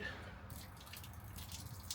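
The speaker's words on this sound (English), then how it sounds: "I am just pouring someone's Coke away because I'm going to put it in the bin." Coke poured out from a cup or bottle into a bin on a bus during a midnight shift, a faint, steady liquid trickle and splash with no talking.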